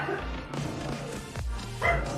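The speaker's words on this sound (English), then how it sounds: "I don't know why the dog's barking." A dog named Henry barks a few times, a near, sharp series of woofs and yips over a busy room with faint background noise.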